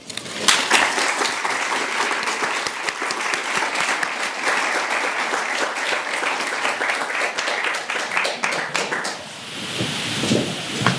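Sustained, dense audience applause greets Tim Shriver at a talk on dignity, loud and steady for about nine seconds before thinning out near the end.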